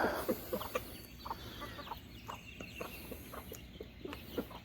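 Several chickens cluck and murmur nearby in short, irregular bursts, soft low clucks scattered over a quiet background with no speech.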